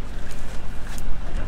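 A narrowboat's engine idles on the canal at Middlewich, a close, loud, steady low throb with wind buffeting the microphone.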